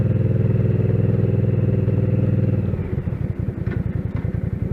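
A Hyosung GV650 motorcycle engine runs close, with a steady low rumble that shifts into a choppier, pulsing throb partway through, steady and loud throughout with no talk.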